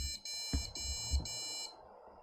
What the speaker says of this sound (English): Nope, still 4 beeps.